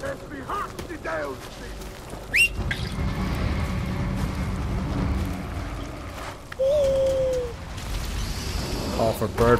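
Bird calls from the Far Cry Primal video game, including a brief hoot-like cry, cut through dense in-game combat noise and rustling, with a few sharp impacts nearby.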